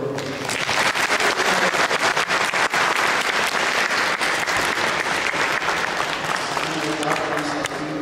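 A loud, dense crowd applause fills a church or lecture hall after a theology talk, continuous sharp clapping held at full strength throughout, with voices mixed in underneath.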